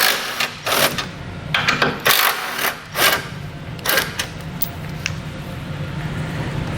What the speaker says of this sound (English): There's two nuts or two bolts we'll remove with a 15mm socket.